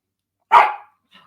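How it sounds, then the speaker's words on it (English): A single loud, close dog bark rings out in a quiet room. A faint short yip follows a moment later. "Why are you barking?"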